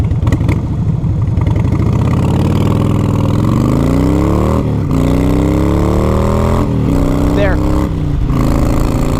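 A Harley-Davidson Softail Springer with a five-speed gearbox pulls away from a launch. Its close engine note rises steadily and dips briefly at each gear change, and a voice speaks briefly over it.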